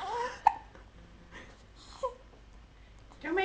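A baby hiccups several times, each one a short sharp catch separated by quiet pauses, up close, with faint babbling sounds between them.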